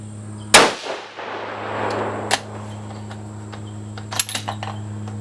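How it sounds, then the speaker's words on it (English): A Savage 110 rifle firing 130gr Sierra Tipped Game Changer rounds, a single sharp loud report near the start, followed by a decaying echo, then scattered clatter and clinks against a steady low hum. "We're going to go ahead and shoot them here"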